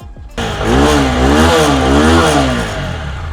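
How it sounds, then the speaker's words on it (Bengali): A new-condition 2023 motorcycle at Pappu Automobile's bike shop starts up and revs loudly and close, its engine note climbing and wavering through a few seconds before easing back. "বাইকটা অন করো সুন্দর দেখি এবার স্টার্ট দাও"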